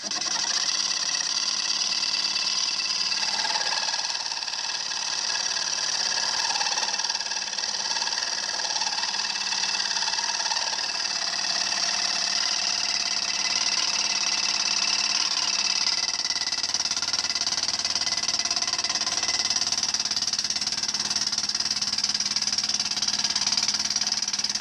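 Wood router milling a wedge shape into a piece of wood, a steady high-pitched whine running continuously at close range without pause, with no talking over it.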